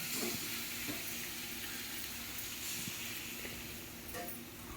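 Tomato and bottle gourd pieces sizzle steadily in a hot pan, a continuous close hiss and crackle with faint clinks, no talk.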